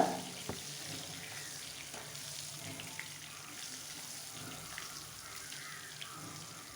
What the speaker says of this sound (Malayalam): തിരിച്ചിട്ട് കൊടുത്തതിന് ശേഷം നമ്മളിത് നല്ലതുപോലെ ഇതേപോലെ തന്നെ ഫ്രൈ ചെയ്തെടുക്കണം